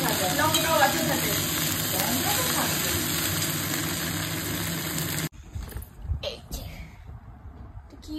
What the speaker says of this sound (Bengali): চলছে আলু, ঢেঁড়স, আলু আর পেঁয়াজ ভাজা, লঙ্কাও আছে সাথে।